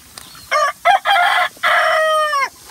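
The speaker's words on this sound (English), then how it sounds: "See? There's a rooster right there." A rooster crows close by in a farmyard among chickens, a single loud cock-a-doodle-doo broken into several bursts that ends in a long drawn-out final note, with no talking.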